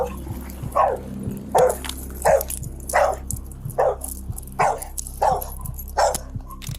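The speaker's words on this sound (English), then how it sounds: "David's dog, sensing the distress, leaped out of the car, barking and clearly agitated" A dog barks repeatedly and agitatedly near a car during a tense police roadside encounter, its sharp barks coming in a steady rhythm of about one per second over a low idling hum.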